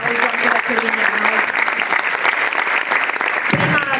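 A large audience claps loudly and continuously at an event about rescue dogs and their handlers, with a voice speaking briefly over the dense applause.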